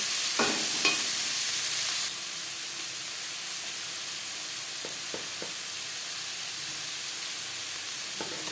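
Onions and tomatoes frying in oil with a spice tempering for a fish-head moong dal, a steady close sizzle with a few soft scraping stirs early on and later, no voices.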